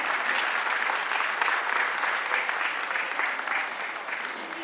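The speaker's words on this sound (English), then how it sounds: "Please make a huge round of applause." Sustained audience applause fills a graduation ceremony hall, dense and steady from start to finish at a strong, even level with no voice breaking through.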